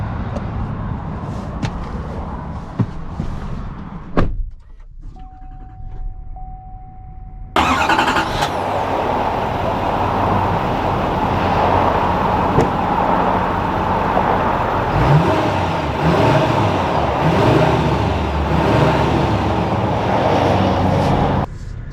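A 2020 Chevy 3500 LTZ pickup truck fires up after a brief chime, then a steady loud engine drone and road rumble continue as it drives off, with no talk.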